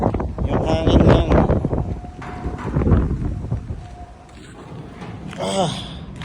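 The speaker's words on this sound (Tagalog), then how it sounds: "That's a snowstorm." Gusty wind blows through a snowstorm in Ontario, Canada, a rough buffeting roar on the microphone that rises and falls, heard under excited voices talking and exclaiming throughout.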